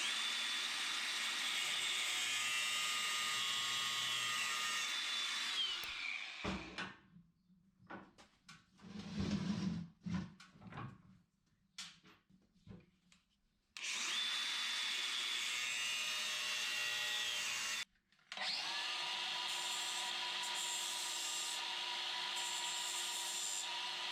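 A power tool cuts zinc hex head bolts down in length, a steady loud whining grind that stops midway for quieter scraping and handling noises, then resumes in long continuous runs with a brief break.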